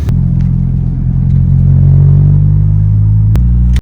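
A tuned 9th-generation Honda Civic engine, deep and loud, rumbles and revs up steadily, then cuts off abruptly at the end; close and throaty.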